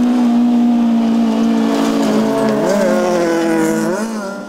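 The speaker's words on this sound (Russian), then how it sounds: "Ветеранов Великой Отечественной войны поздравляли ревом моторов." A race car roars past at speed during a Victory Day motor-racing event: a loud, sustained engine howl whose pitch rises and bends as it shifts and passes, fading at the end.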